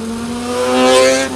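A sport motorbike engine revs hard and swells as it passes close by, rising to a peak and then easing off.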